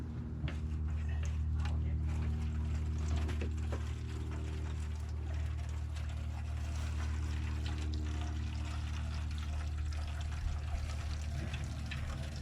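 Gasoline drains from the 5HP Tecumseh engine of a Troy-Bilt MTD Garden Way wood chipper vacuum, a steady trickle and pour under a low engine-like hum, with faint mechanical clicks throughout.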